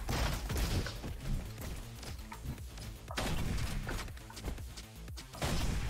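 Rapid gunfire from the video game Roboquest, a series of punchy shots and thuds in uneven bursts, moderately quiet and mixed with game impacts.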